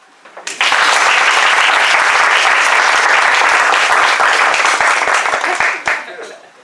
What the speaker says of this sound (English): I'm just going to ask you to warm your hands up by clapping for each other for the introductions